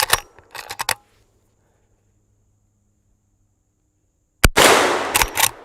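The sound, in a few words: lever action rifle gunshot, .44 Magnum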